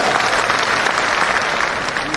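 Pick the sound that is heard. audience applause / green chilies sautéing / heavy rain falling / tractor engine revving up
audience applause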